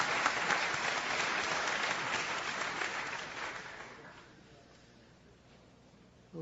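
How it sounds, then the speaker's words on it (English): An audience gives a big round of applause for a speaker, steady dense clapping that fades out over several seconds into near silence. "Big round of applause for Mr. Jeff King."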